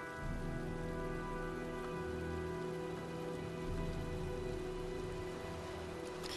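Steady rain pours down in a storm scene from the Heavy Rain video game, a dense continuous hiss close around with faint low rumbles beneath.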